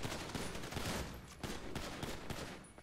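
Bursts of gunfire during a police hostage standoff in GTA 5, rapid cracking shots in several clustered volleys, fairly close and sharp, with little talk over them.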